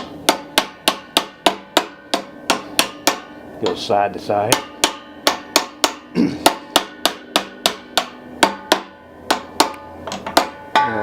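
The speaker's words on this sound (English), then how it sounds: "Get a 1-pound hammer, slightly tap into it," Rapid, evenly spaced light metal taps from a 1-pound hammer tapping a bearing onto a rod during an air compressor rebuild, around two per second, sharp and close, with a brief spoken remark in the middle.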